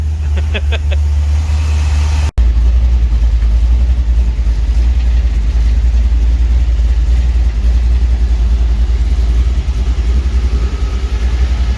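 A 1949 Chevy 3100 pickup engine runs loud and close, a steady low rumbling drone that holds throughout after a brief clicking start.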